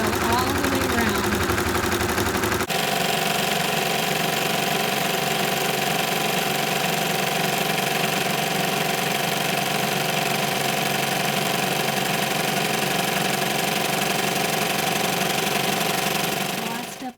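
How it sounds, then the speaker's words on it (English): A sewing machine running a continuous satin stitch around an appliqué on knit fabric with a ballpoint needle, a steady, loud, close mechanical drone after a short burst of different noise at the start. "Now I'm adding my final satin stitch, and that will go all the way around."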